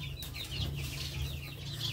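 Young chicks in an indoor poultry pen cluck and chirp continuously, with several birds calling over each other at close range against a low steady background hum.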